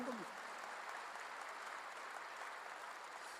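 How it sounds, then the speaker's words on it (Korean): A Korean church congregation applauds during a sermon, a steady, faint, even wash of clapping from a large crowd that carries on throughout. "박수를 하세요."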